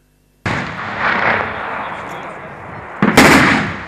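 Gunfire and artillery in an armed clash at Elmaske village near Afrin, Syria: after silence, a loud booming blast rolls out and decays, followed by a second sharp, close report about three seconds later.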